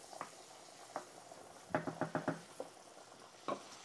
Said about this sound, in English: Now the shrimp will take about 5 minutes to cook.